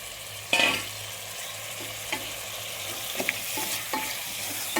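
Mutton tossed into a hot pan of curry base, with a sharp sizzle as the meat lands and then steady frying hiss, broken by a few scraping stirs of the spoon against the pan.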